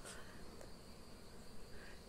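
Bees around outdoor beehives give a faint, steady insect drone that stays even throughout, with no other sounds on top.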